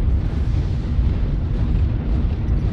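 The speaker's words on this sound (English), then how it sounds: "Watch the artillery strikes, guys" Continuous low, rumbling blasts from artillery strikes in a video game battle roll on steadily at moderate loudness, with no clear gaps between impacts.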